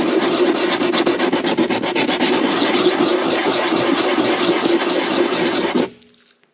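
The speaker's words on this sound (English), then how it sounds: "Now this is an 80 grit, and I've just got it on a flat surface here, and I'm going to try to take the high spots off." A gasket is rubbed back and forth across 80-grit sandpaper laid on a flat surface, making a loud, continuous gritty rasping that runs steadily for almost six seconds and then stops abruptly.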